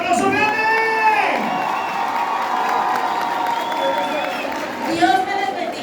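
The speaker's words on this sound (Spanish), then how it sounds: "Ese es el aplauso merecido, el aplauso grande." A women's gathering in Funza, Cundinamarca erupts in applause with cheering and high shouts from the crowd, loud at first, settling into sustained clapping, then swelling again near the end.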